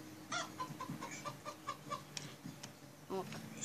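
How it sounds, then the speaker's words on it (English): A Minecraft Story Mode chicken clucks repeatedly in short, evenly spaced bursts, fairly close, with a few sharper calls toward the end. "Chicken."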